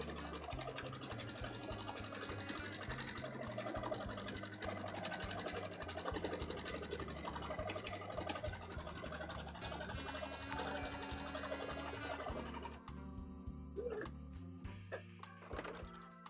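A sewing machine stitches a petticoat in long steady runs, its motor whirring continuously and close up for about twelve seconds before it stops and a few clicks and handling sounds follow.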